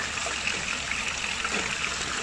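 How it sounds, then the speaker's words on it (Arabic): Hot water pours steadily into a pot of chicken browned in oil, a continuous close trickling and splashing rush with no pauses. "هلأ رح أضيف المي السخنة"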